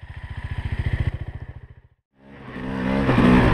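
Kawasaki KLR motorcycle climbing a dirt hill, with a close, pulsing engine chug that fades to a short silence and then comes back as a rising, louder engine roar.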